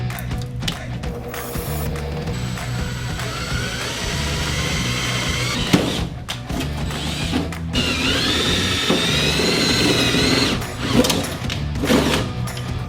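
Power drill boring out rivets on the fender flares of an early Ford Bronco, repeated whining bursts of the motor that rise and fall in pitch, close and loud, with brief pauses between runs.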